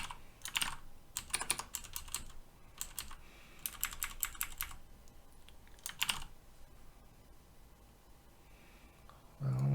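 Typing on a computer keyboard comes in close bursts of rapid key clicks separated by short pauses, with a brief louder thump at the end.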